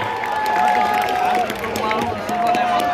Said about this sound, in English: Let's give them one more round of applause for being good, positive role models out here.